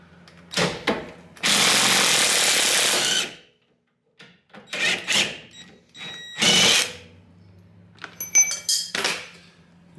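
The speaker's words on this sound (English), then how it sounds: "and then I'm going to put the impact gun on this side." An impact gun undoes the coilover bolts on a Mitsubishi Evo X: a short burst, then a sustained roughly two-second hammering run, followed by several more short bursts and metallic clinks, close by.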